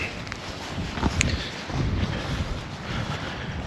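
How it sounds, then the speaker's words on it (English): Strong, gusty wind buffets the microphone beside the flooded River Trent near Girton boating lakes, a constant roaring rumble with a few harder gusts and no voices. "the wind's picked up now, it's really, really windy"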